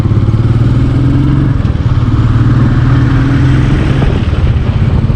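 Royal Enfield Meteor 350 motorcycle on an off-road track, its single-cylinder engine thumping loud and close in a steady, throbbing note under heavy wind rush, with no talking.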